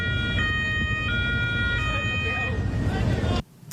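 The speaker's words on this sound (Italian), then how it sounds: "le sirene della polizia locale annuncino il loro imminente arrivo" Local police sirens wail through a Venetian waterfront setting, a steady warbling tone rising and falling over busy background noise and a low motor rumble, cutting off abruptly near the end.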